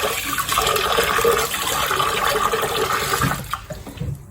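Cloudy, starchy water from washing Japanese rice pours out of a bowl in a steady, close splashing gush that trails off into a few drips and clinks at the end.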